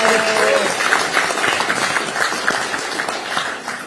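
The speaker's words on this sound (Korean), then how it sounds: "한 분 한 분 소개할 때마다 큰 박수로 맞이해 주시면 되겠습니다." Loud crowd applause welcoming candidates at a Democratic Party rally, a thick, continuous roar of many clapping hands close by, with a few faint voices mixed in at the start.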